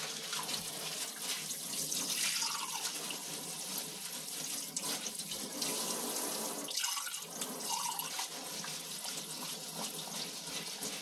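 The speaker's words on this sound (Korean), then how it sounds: "물로 시작을 해보고 물로 씻어보겠습니다." Tap water runs steadily into a sink as a coffee-stained cup is rinsed, a continuous close splashing rush with no talk.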